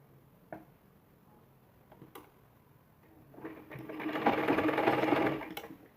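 Sewing machine stitching piping for a blouse, starting with a few faint clicks and taps, then a steady near whirring run of stitches lasting about two seconds before slowing to a stop.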